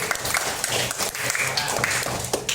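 A group of students applauds a team in a classroom during an academic coaching session, giving a dense, steady wash of clapping with voices mixed in throughout.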